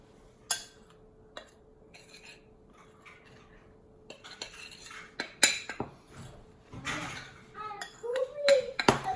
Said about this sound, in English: give this a good little kind of mix just to incorporate both the dry ingredients together